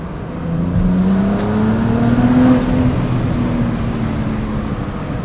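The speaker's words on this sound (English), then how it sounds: "when you get to the higher RPMs in second, you really hear this car." BMW 135i N54 engine revving while driving, a sustained loud drone that climbs in pitch and then eases off, continuous throughout from the cabin.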